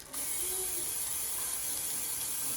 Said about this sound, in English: I'm going to spray it with a little bit more of the oil.